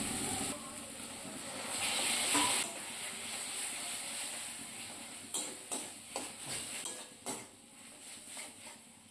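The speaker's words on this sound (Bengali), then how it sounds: "চিংড়ি মাছ বাটাটা দেওয়ার পর কিন্তু অনবরত নাড়াচাড়া করে মশলাটা কষিয়ে নিতে হবে" Shrimp paste and spice masala stirred in a hot pan, a steady sizzling hiss swelling midway, then a run of sharp spoon-and-pan scrapes and clinks near the end.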